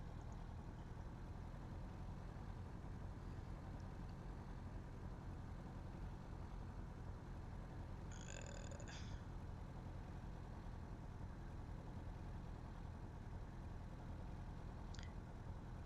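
An SF25 Falke motor glider engine holds about 2400 rpm in a climb on a clear day, a steady, fairly quiet low drone from inside the cockpit, with a brief electronic tone partway through.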